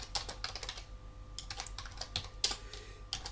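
Quick, close clicking of keys on a computer keyboard as coordinates are typed, an uneven run of taps with brief pauses and no talking.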